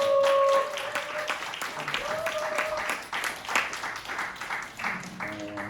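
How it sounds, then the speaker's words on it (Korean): A high-school Sunday worship congregation claps together after a closing prayer, a steady mid-level patter of hands running through the clip while a voice speaks over it. "다시 한번 정말 큰 박수"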